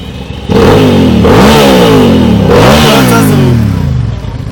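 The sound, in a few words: 650cc motorcycle engine revving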